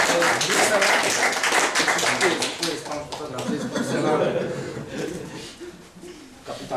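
An audience at a poetry slam festival claps for a performer, loud and busy at first and then thinning out, with an announcer's voice and some chuckling heard over the applause.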